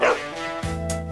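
A dog barks in a television commercial: a loud, close bark with a yip-like rise, then a second shorter bark near the end, with no talking.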